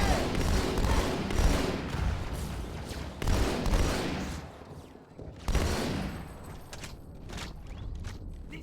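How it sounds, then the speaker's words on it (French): Gunfire and grenade blasts from the Halo 2 video game, a dense barrage of shots and explosions with a brief lull before another burst, loud throughout. "Grenade."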